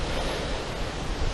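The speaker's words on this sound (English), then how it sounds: "I've got a whole irritating windy weather and tree rustling that's making it very difficult to think properly." Gusty wind with rustling trees, a steady broadband roar filling the whole clip, loud and close like wind buffeting a microphone outdoors.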